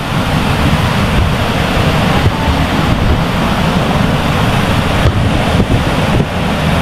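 Strong rushing water at Talon Pari Falls in Doña Remedios Trinidad, Bulacan, pours as a loud, continuous, close roar of broadband noise that stays steady throughout, with no voices.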